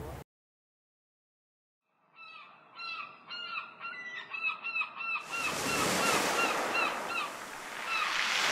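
Gull-like birds call repeatedly by the sea in a chattering series, then loud waves or wind rush in and wash over them.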